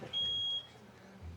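A speaker timer at a countywide committee meeting gives a single faint, high electronic beep lasting about half a second over quiet room noise.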